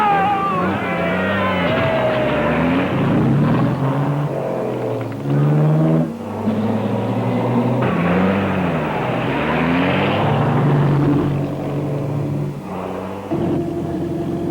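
A car is driven off fast by a young woman, the engine revving and surging through repeated accelerations with changing pitch, loud and close, rumbling between bursts.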